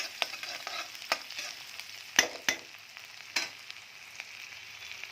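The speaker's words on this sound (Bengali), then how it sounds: "এই যে শাকটা তেলের মধ্যে ঢেলে দিয়েছি, পেঁয়াজ রসুন তেল ভেজের মধ্যে ঢেলে দিয়েছি" Pumpkin greens poured into hot oil with onion, garlic and cumin, sizzling and frying steadily in a pan, with a few louder stirring scrapes and crackles standing out against the continuous hiss; no one speaks.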